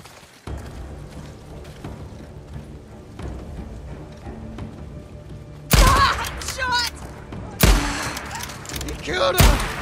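Sharp sniper shots and impacts in Days Gone, a few loud cracks in the second half after a quieter stretch, with game noise and a voice in the background.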